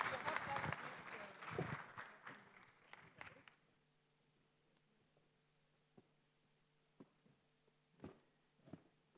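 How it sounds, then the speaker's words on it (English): Audience at a development finance summit in Uganda gives a round of applause, with loud clapping that fades out after a few seconds. Quiet hum, a few scattered claps and knocks follow. "Let's give him a big round of applause"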